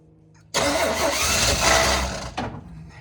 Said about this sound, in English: The motor sounds real good.